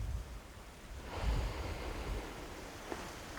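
Sea waves wash onto a beach while wind blows, with a soft hissing surge that swells to a fuller rush midway and then settles into a steady, gentle roar.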